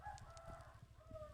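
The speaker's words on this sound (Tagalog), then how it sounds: "Ito manok rin." A chicken in a video game, a short string of low clucks and rooster-like calls, quiet and close, over a steady faint background hum.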